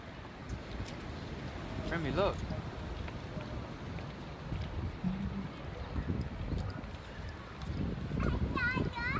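Horse hooves clip-clop over sand amid steady wind and surf noise, with faint voices and a brief whinny-like call in the background.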